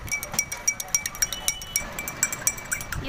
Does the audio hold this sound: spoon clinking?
yes